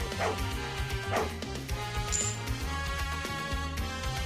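Dog barking in the Medieval Cop video game, a run of repeated woofs and yips at a close, fairly loud level over soft game background music.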